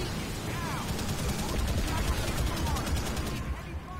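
Dense, sustained gunfire from Call of Duty: World at War during the Black Cats mission, with rapid bursts of shots and heavy blasts packed together loud and close, no voices over it.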